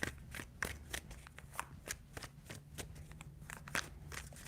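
Tarot cards being shuffled by hand, a quiet run of crisp riffling snaps and soft slides in an uneven rhythm, close up with no talking.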